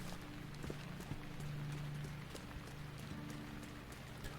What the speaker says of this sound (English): we take the horse down from this target down to the gunpowder factory